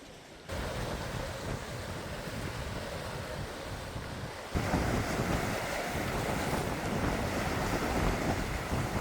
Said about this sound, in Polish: No dobra, tu już wieje mocno.